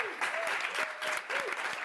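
Applause from the audience at a film press conference for The Shrouds, a short burst of steady clapping from a nearby crowd, with a voice talking over it.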